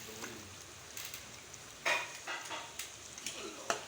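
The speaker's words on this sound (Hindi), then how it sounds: "अभी हम फ्राई किए हुए गोश्त में इसको शामिल कर देंगे।" Ground spice paste is stirred into fried beef in a pan for korma, with a faint sizzle under irregular scraping and clinking spoon strokes at close range.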